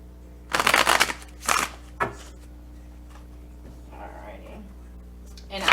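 Tarot cards are shuffled hand to hand in a few quick riffling bursts, close up, separated by pauses with soft rustles and a faint hum.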